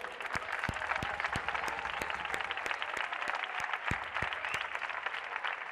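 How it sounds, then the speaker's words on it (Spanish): An audience claps at a dance show, sounding fairly distant and soft, with a few sharper individual claps standing out in an uneven rhythm. "Oye, aplauso para el público."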